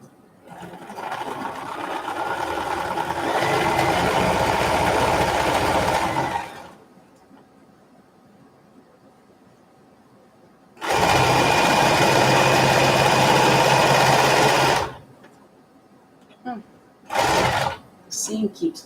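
A sewing machine re-stitches a quilt seam in two long bursts of rapid, steady stitching. Quiet gaps separate the bursts, and a few short stitch spurts follow near the end.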